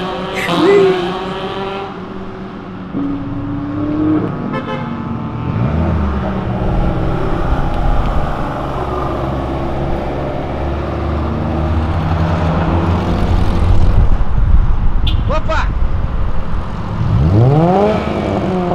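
A Ferrari on an urban avenue drops gears with a rising, bellowing engine note, then accelerates hard, revs climbing steadily and loud throughout with a brief squeal toward the end, slipping slightly sideways; no voices are heard.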